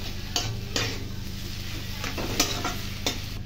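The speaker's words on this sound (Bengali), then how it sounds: "সেদ্ধ করে রাখা আলুটা দিয়ে এখানে ভালো করে আলু এখানে আমি কষিয়ে নেব" Boiled potatoes with spices sautéing in a pan, with a loud steady sizzle and a few sharp scraping strokes of the spatula, close up and without talk.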